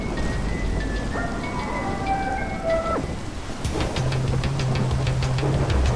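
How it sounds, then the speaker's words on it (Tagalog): Heavy rain and wind in a Minecraft storm, a steady dense hiss of downpour with a rumble of thunder rolling in partway through, loud and continuous with no voices. "Malakas ang ulan at hangin."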